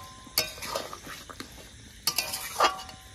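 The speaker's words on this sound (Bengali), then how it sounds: "মাছের ডিমের বড়াগুলো ভালো করে ঝোলের সাথে মিশিয়ে নিয়েছি" Fish roe fritters stirred into curry gravy in a pot, with a few sharp clinks of a utensil against the metal and soft wet scraping between them, quiet and close.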